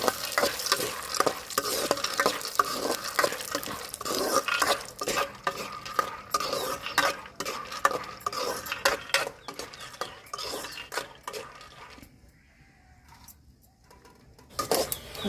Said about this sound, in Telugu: నూనె కాగిన తర్వాత గుడ్డలు అయితే వేసి వేపుదామండి